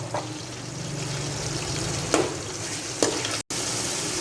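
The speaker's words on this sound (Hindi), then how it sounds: "हम हाई फ्लेम पे ही कीमे को भी फ्राई करेंगे।" Minced mutton keema and onions fry on a high flame, a loud, steady sizzle broken by a few sharp stirring scrapes, with no voices.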